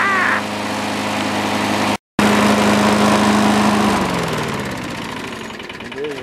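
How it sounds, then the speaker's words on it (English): A makeshift lawn mower engine with no kill switch, parts held together with vise grips, runs loud and steady close by with a rough, buzzing drone, cut off for a split second midway before resuming; a short vocal sound breaks in near the start and end. "now that is a serious lawnmower."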